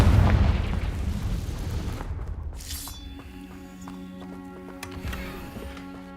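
A Confringo spell explosion in a video game, a loud low booming blast with a rumbling tail that fades over about two seconds, followed by quieter game sounds and tonal chimes.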